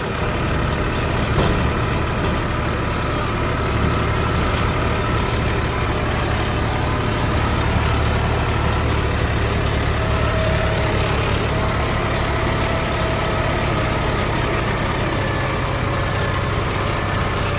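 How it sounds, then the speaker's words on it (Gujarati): A New Holland 3230 tractor engine hauls a fully loaded trolley in second gear, its steady heavy diesel drone continuous and fairly loud throughout, with no breaks or voices. "તમે જોઈ શકો છો કે ફાટો પણ બીજા એટલે ફૂલ લોડમાં અત્યારે ટ્રેક્ટર જઈ રહ્યું છે"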